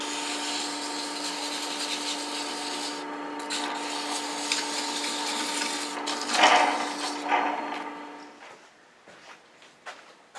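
Close, continuous rubbing of 120-grit sandpaper on wood, a rough scratchy hiss with steady strokes that swell midway and then taper off, no voices.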